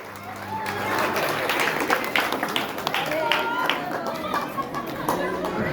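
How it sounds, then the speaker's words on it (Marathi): An audience at a Ganesh festival event claps in a sustained round of applause, with crowd chatter and voices mixed in underneath. "जोरदार टाळ्या"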